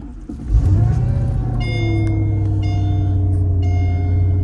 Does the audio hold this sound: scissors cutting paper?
no